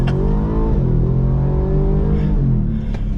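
A 2023 Ford F-150 Raptor R truck pulls away with its engine revving hard, a loud, steady, close-up rumble holding for several seconds with no voices over it.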